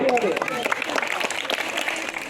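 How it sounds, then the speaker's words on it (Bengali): An audience claps at the Ula art festival, a fairly close, busy patter of many hands that runs throughout, with voices heard alongside. "এত জোরে হাততালি হবে"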